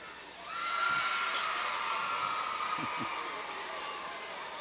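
Crowd at a 2002 Texas 5A high school basketball championship game, cheering and whooping that swells early and holds fairly steady, heard at a moderate distance with a few sharp thumps.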